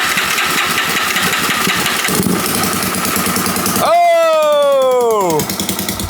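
A Yamaha Raptor 660 ATV cranking over on its starter with a rapid rhythmic churn, then a sharp descending whine as the starter spins and the engine tries to catch, close and loud.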